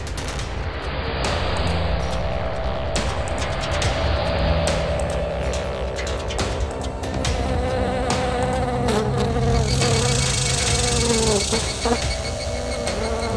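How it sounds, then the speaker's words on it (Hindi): A housefly buzzes inside a car in a crime drama scene, a persistent whining hum over low engine and cabin noise, with occasional sharper clicks and bursts but no speech. "तुम्हारी ये गाड़ी में मक्खी कहाँ से घुस गई?"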